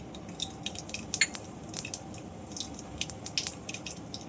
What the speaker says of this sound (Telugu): ఆవాలు చిటపటలాడుతున్నాయి చూసారు కదా.